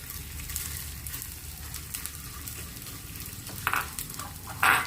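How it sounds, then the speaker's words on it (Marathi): Edible gum pieces fry in ghee in a pan, giving a continuous close sizzle with occasional stirring scrapes and a sharper clatter toward the end. "आता आपल्याला ह्या पॅनमध्ये तूप घेतलेलं आहे आणि त्याच्यामध्ये आपल्याला डिंक तळून घ्यायचं आहे"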